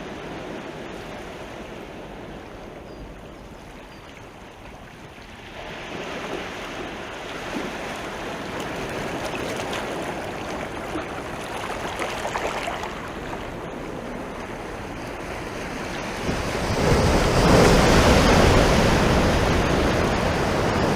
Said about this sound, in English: we're kind of familiar with marine habitats and the sounds of the sea, such as this.